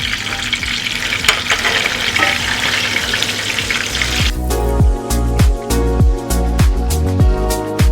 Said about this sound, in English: Shallow fry it.